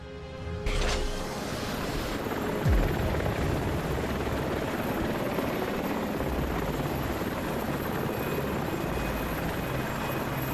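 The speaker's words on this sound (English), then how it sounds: "Is that helicopter right there?" A helicopter in the Transformers: Revenge of the Fallen video game, a loud steady rotor roar with dense engine noise that fills the scene throughout, with no voices.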